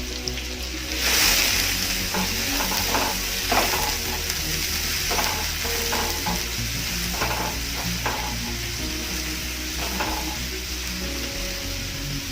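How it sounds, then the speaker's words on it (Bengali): Chopped onions sizzle and fry in a pan while a utensil stirs them, a steady close crackle with occasional scraping strokes throughout. "পেঁয়াজটা ভালোভাবে ভেজে নিতে হবে।"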